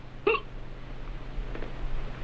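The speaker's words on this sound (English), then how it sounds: "I have the hiccups." A single sharp hiccup sounds clearly near the start, followed by a fainter second catch, heard indoors over a low steady hum, with no speech.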